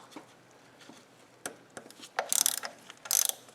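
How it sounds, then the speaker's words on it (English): Ratchet wrench clicking as 10mm bolts come off the thermostat cover on a BMW E32 735iL with an M30 engine, with scattered single clicks and then two quick bursts of rapid ratcheting. "So I'll remove these 4 10mm bolts."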